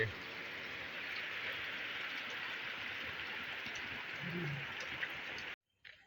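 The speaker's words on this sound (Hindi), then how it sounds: "हो वर्षा हो" Steady rain hisses continuously, a dense even patter close by, then cuts off abruptly near the end.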